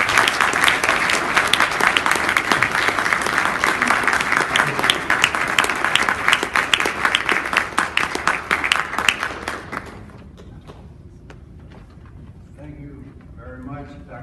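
Audience applause welcomes a speaker, a loud, dense burst of clapping sustained for about ten seconds before it tapers off. Faint talking follows near the end.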